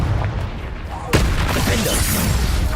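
A Confringo fire spell from Hogwarts Legacy erupts in a sudden loud blast about a second in, followed by a crackling, roaring burst that sustains over busy game ambience.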